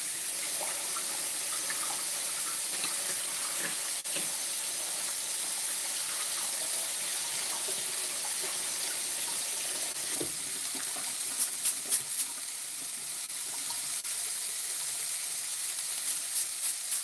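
Kitchen tap water runs steadily into a sink while something is rinsed during cooking of fried shrimp, kale with bacon, and rice. The flow is a loud, continuous close hiss, with a few brief clinks near the end.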